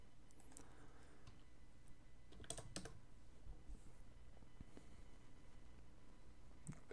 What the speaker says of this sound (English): And type in WooCommerce.